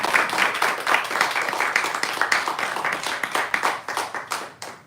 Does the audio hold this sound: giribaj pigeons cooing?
no